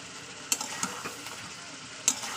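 Chicken cooking down in dried chili masala paste in oil, giving a quiet, steady sizzle with a few sharp stirring clatters near the start and near the end; no one speaks.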